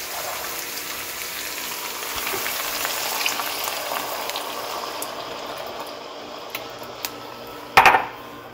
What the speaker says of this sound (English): Make sure you stir this continuously so that it does not burn and it does not get stuck to the pot because it's coconut milk.